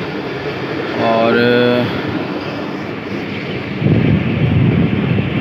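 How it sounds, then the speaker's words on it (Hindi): A train, the Allama Iqbal Express, pulls into Dunyapur railway station, giving a steady broadband rumble with wind noise that swells louder toward the end; someone speaks briefly over it. "दुनियापुर रेलवे स्टेशन जो है पहुंच रही है 9 अलामा इकबाल एक्सप्रेस"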